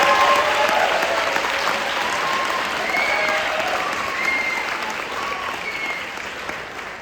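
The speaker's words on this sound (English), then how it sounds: "Would you give me Chris a round of applause?" Sustained applause from a concert audience at a spring band concert, a broad wash of many hands clapping steadily and slowly tapering off, with a few faint scattered voices within it.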